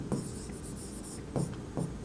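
Pen writing on paper during a bookkeeping lesson, close and quiet, with short scratchy strokes in bursts and brief pauses between them.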